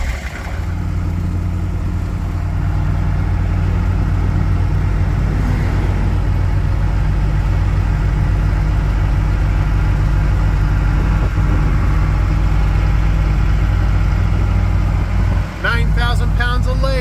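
A vehicle engine drones steadily while hauling a lathe along the road, a loud continuous low rumble from inside the cab, with a short burst of a voice near the end.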